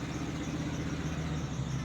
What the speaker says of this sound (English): we got a car coming up, so they might want me to move.